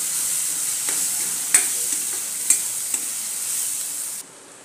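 Ingredients sauté in oil on a tawa for Maharashtrian brinjal bharit, a bright, even sizzle close by with a few sharp spoon clicks against the pan, the sizzle dropping off abruptly near the end.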